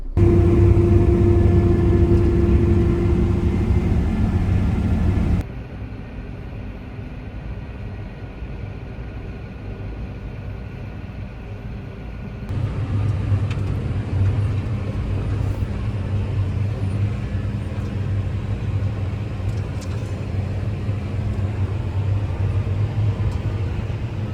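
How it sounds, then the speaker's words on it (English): A combine harvester driving into a field for combining, a loud low engine rumble that drops to a quieter hum midway and then swells back to a steady heavy drone, with no talking. "And we're back on with combining, just going into the field now."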